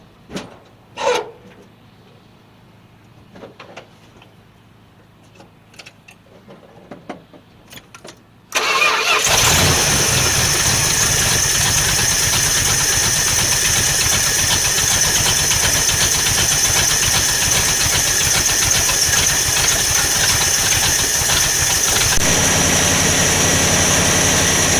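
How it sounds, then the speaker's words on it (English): A 1978 Dodge Power Wagon engine cranks and catches after a few quiet knocks, then settles into a loud, steady close-up idle that continues for the rest of the stretch. "I'm going to start it up and let's see what happens"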